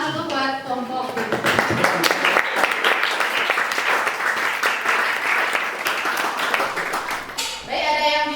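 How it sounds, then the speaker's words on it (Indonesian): Classroom applause for a student group during an Indonesian guidance lesson, a burst of many hands clapping that swells and holds for several seconds, with a teacher's voice before and after. "Tepuk tangan dulu buat kelompok."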